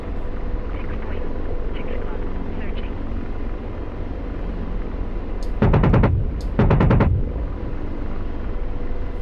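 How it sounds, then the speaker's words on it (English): Two short bursts of rapid small-arms gunfire, close together near the end, cut through the steady drone of an Apache attack helicopter's engine and rotor in the DCS World flight simulator during a close air support mission. "Yep, we're taking small arms."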